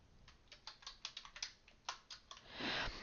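Keys tapped on a computer keyboard while entering a root password at a Linux prompt, a quick irregular run of close, crisp clicks that ends in a louder rustling burst.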